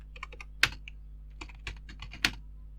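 Keystrokes on a computer keyboard while writing an HTML paragraph, a quick irregular run of close, crisp clicks with a few louder key strikes standing out.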